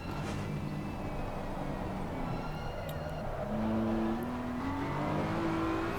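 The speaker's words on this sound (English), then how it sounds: "Just listen to the car's revs as it comes out of this corner" A GT3 race car engine in a racing video game at Mount Panorama revs steadily, pitch climbing as it accelerates out of a corner, with a second engine tone rising near the end; steady, fairly loud, no talking.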